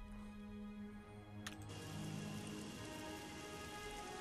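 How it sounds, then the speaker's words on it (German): Rain falls steadily in The Elder Scrolls IV: Oblivion as a soft, constant patter on surfaces, faint and even throughout, with a brief sharper tick partway through. "Und es regnet schon wieder."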